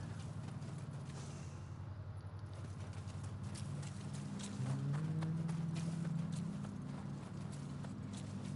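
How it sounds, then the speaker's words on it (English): Horse hooves clip-clop steadily in the Nioh 2 video game, a soft rhythmic clatter under faint background noise, with no talking. "This horse needs to get out the way"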